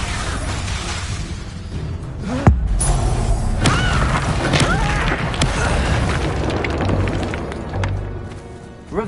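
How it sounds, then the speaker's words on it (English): A spell explosion goes off in the Hogwarts Legacy video game, a loud sudden boom followed by crashing, crackling debris and rumbling impacts in a busy battle mix. "Explosion!"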